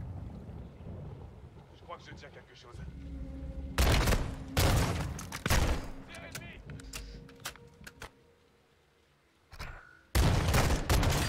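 Shotgun blasts in Call of Duty Modern Warfare 2's campaign, several loud bursts booming out one after another amid wind and water noise, with a quieter stretch between them.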